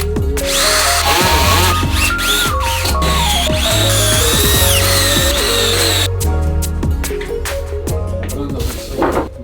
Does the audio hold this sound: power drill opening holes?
yes